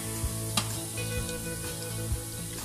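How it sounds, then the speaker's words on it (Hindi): Cumin seeds crackling in about two tablespoons of hot oil, a steady close sizzle with a few brief sharp pops and stirring scrapes, no voices. "अब इसमें मैं डालूंगी जीरा। तेल गर्म हो चुका है"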